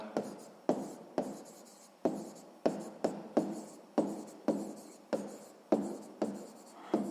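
A pen writes by hand on paper during a sixth-grade maths exercise, making a close series of quick scratchy strokes, each starting sharply and then trailing off, in an uneven rhythm.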